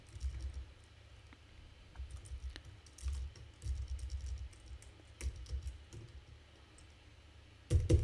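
Computer keyboard with a stuck key, heard as soft bursts of clicking and tapping that come and go, with a louder burst at the end and no talking.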